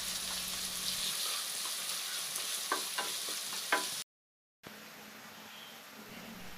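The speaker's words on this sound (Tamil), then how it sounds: "அதையும் இதில் சேர்த்து வெங்காயத்தோடைய கலர் மாறுற வரைக்கும் வதக்கிக்கலாம்" Chopped onion and green chillies sautéing with biryani spices in a pan, a faint steady sizzle with a few light utensil clinks, cut off by a brief silent gap before the frying resumes.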